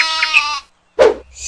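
A sheep bleats in a wavering, nasal cry, then a short low call sounds after a brief pause, followed by the start of another high bleat, all close and without talk.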